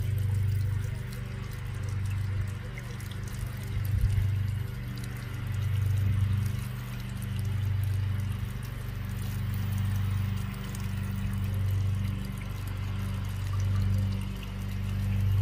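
Steady rushing and splashing of water from a small garden waterfall, continuous and fairly close, with a low droning hum of a lawn mower beneath it.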